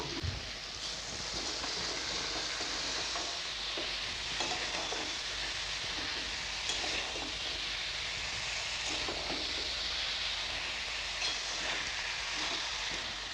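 Cut cabbage and potatoes go into a pan of cooked masala with melted tomatoes, giving a steady close hiss and sizzle of frying, with scattered scraping stir clicks across the whole stretch.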